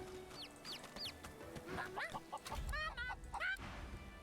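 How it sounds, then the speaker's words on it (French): Chicken clucking in the video game Divinity Original Sin II, a series of short nasal clucks and rising squawks, close and moderately loud over a faint background. "J'ai un poulet avec moi."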